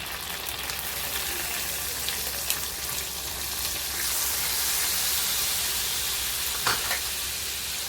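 Oil and butter heat in a frying pan, giving a steady broadband sizzle with soft crackles and a couple of louder pops near the end.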